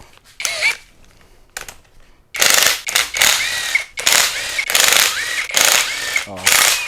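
Parts clank and rattle as a two-stroke Kawasaki Ninja engine is taken apart, with quick metallic knocks and scraping bursts in a close, busy rhythm, followed by several louder clattering stretches.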